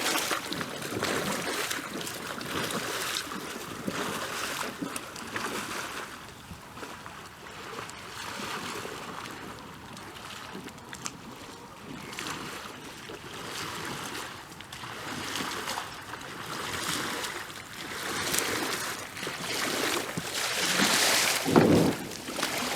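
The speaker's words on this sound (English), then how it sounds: "let's paddle down and back again, just so you can maybe see the inertia in action." A raft being paddled through river water, with continuous splashing and rushing water and repeated paddle strokes in a steady outdoor wash, no talk.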